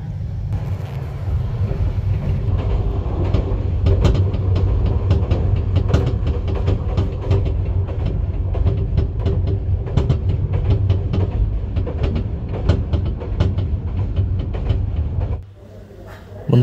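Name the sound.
Turna Nishita Express train running at speed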